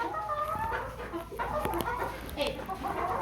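Chickens cluck and murmur continuously nearby, a busy flock sound with occasional sharper squawks, while a goat eats the chicken food and people talk faintly in the background.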